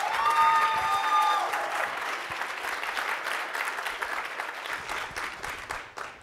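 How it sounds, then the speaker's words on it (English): A conference keynote audience gives a speaker warm applause, a dense wash of many hands clapping at once, loud and steady throughout, while a brief tonal sound fades out in the opening second. "give a warm round of applause for Allison."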